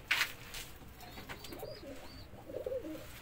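Soft pigeon coos sound at close range in a loft setting, with low murmuring calls repeating under faint background noise.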